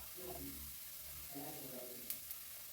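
Bitter gourd frying in a pan gives a steady, soft sizzling hiss, while a voice talks over it and two small clicks sound near the end.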